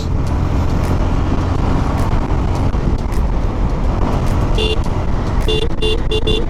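Busy coastal road traffic on the Marine Drive at Cox's Bazar, with three-wheelers, auto-rickshaws and CNG autos, heard as a loud, continuous roar with several short horn toots near the end.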